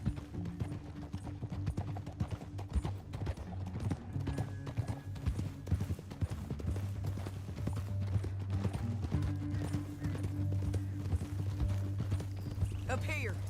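Horse hooves gallop in Red Dead Redemption 2 in a fast, continuous rhythm under a low droning backdrop, with voices speaking over the hoofbeats at times.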